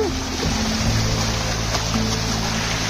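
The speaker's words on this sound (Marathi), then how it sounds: "हे बघा पहिला धबधबा." A waterfall on the Harishchandragad trek roars as a steady, loud, broadband rush of falling water with no breaks, heard close by, with faint hints of voices beneath it.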